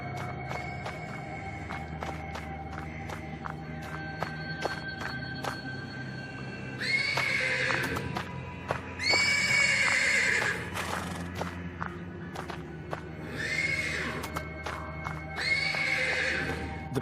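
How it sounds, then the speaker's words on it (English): A horse in a stable gives several loud, high whinnies and neighs, in bursts from about seven seconds onward, over soft hoof clops and a steady low hum of game ambience. "The persistent neighing of a horse can be heard from the stables."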